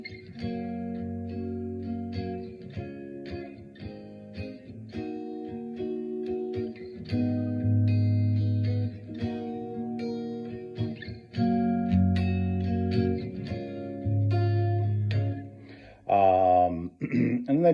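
Guitar playing the verse chord progression of a song, clean strummed and picked chords with effects, close and steady, repeating the pattern before a brief voice near the end.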